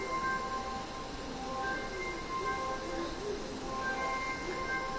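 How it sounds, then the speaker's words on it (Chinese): A Taiwan High Speed Rail 700T train in painted livery moves at a distance at Taipei station, heard as a low, steady hum with faint tonal whines under station ambience. "远处的那个台湾高铁卡赫纳拉彩绘高铁700T型高铁列车"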